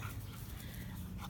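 Two young dogs wrestling and play-fighting indoors, with steady low growling and scuffling noise running close and continuous through the moment.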